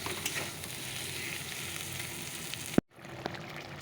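Spice masala for meat frying in a pan with onion, garlic, tomato, ginger and potato, a steady close sizzle and crackle, then a sharp knock and abrupt cut to near silence before a faint sizzle resumes.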